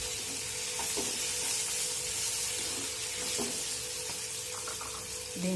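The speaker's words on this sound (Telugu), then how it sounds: "పచ్చిమిర్చి వేగిపోయింది కదండి." Green chillies fry in oil in a pan, hissing in a loud, continuous sizzle, with occasional soft clinks from a spoon stirring them and no talk.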